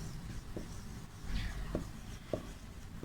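Pen scratching across paper while a letter is written out by hand, a few light strokes and taps spread over several seconds, fairly quiet against a faint room background.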